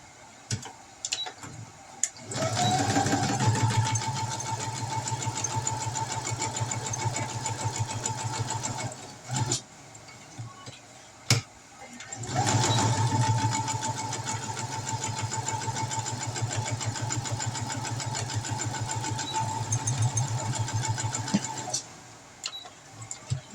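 A sewing machine stitches fabric weights in two long, loud runs of rapid, even whirring, separated by a short pause and a few clicks.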